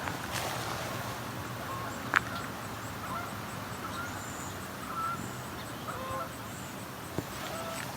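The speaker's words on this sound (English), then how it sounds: "Comes some Canada goose." Canada geese honking by a river, giving a few scattered, fairly distant calls over a faint outdoor background where other birds are also heard.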